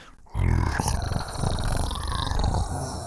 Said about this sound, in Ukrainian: виявилося, що то був тигр, справжнісінький величезний тигр